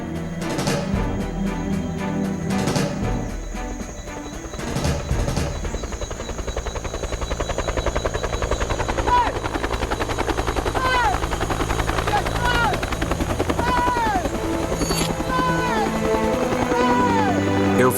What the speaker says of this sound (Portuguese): Eu vi ao longe um helicóptero sobrevoando a área